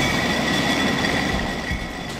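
Funicular cable railway car running on rails up a steep slope, a steady close rumble with a thin sustained whine over it and no pauses.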